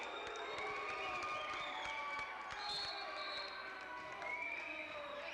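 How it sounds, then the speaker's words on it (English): A high school basketball crowd in a gym yells and jeers in protest at a referee's call, a sustained wash of raised voices with shoe squeaks and a faint commentator underneath. "the Wendover crowd disagrees with that call"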